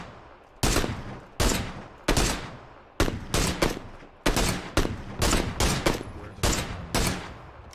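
Gunfire in the battle royale video game PUBG, a series of sharp, loud shots and short bursts at irregular intervals, each followed by echoing decay, with no talk over it.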